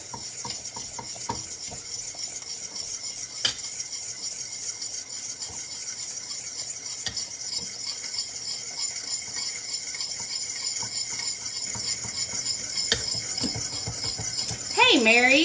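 A fork scrapes and stirs steadily through lumpy keto gravy in a pan, a soft continuous rasping with occasional metallic taps, ending in a brief louder sound.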